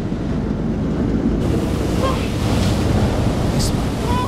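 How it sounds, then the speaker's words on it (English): Giant ocean waves crash and surge with heavy wind in the video game Man of Medan, forming a loud, constant roar of surf and gusts. "Giant waves, dude."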